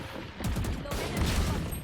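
Rapid automatic fire from an Odin machine gun in the Valorant video game, a dense fusillade of bursts heard at moderate level amid game sounds.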